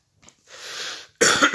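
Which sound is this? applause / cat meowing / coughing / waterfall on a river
coughing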